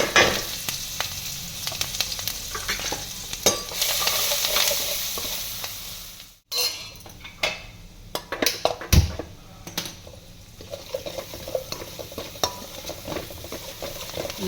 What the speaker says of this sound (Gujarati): નાખશું થોડીક હિંગ, આમાં નાખશું થોડુંક લસણ અને મરચાં પણ સાથે.